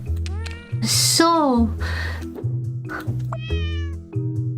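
Cartoon cats in the puzzle game Cats Organized Neatly meow repeatedly in high, rising and falling calls, loud and close over a steady game music loop.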